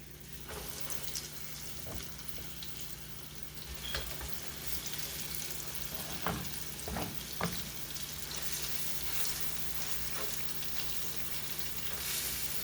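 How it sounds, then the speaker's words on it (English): Pork chops searing in hot vegetable oil in a pan give a steady, close sizzle and crackle throughout, with a few sharper pops and spatters scattered across the frying. "I got some hot vegetable oil in it, and I'm just going to sear my pork chops"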